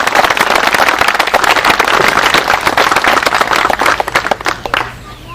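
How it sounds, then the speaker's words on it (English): Dense outdoor crowd applause at a Hall Mountain celebration, loud sustained clapping from many hands that thins toward the end, with scattered cheers mixed in. "Give him a round of applause."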